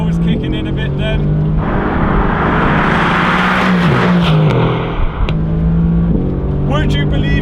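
A Mercedes-AMG GT R and a 700-horsepower Audi RS4 B5 drag race, heard from inside one car as a loud engine roar climbs through the gears with shift breaks, while a person talks over it.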